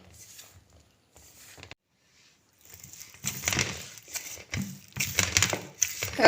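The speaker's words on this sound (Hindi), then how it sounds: "थोड़ा थोड़ा पानी डाल के ऐसे हम आटे को गूंथते जाएंगे।" Dough for egg paratha kneaded by hand with a little water at a time, heard as soft squelching, pressing and slapping thuds, near and irregular, starting quietly after a pause and growing busier.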